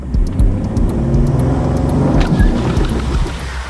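A tuned Ford Explorer ST brake-torquing on a prepped drag strip surface, its engine holding a loud, steady revving roar throughout, with no talk over it.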